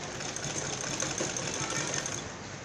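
An electric sewing machine whirs in fast, steady stitching while a neckline seam is sewn, close and continuous, with a voice speaking over the mechanical chatter.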